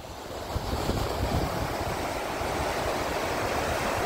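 Sea waves wash onto a beach at night, a dense, rushing roar of surf mixed with wind buffeting the microphone, steady and close throughout with no talking.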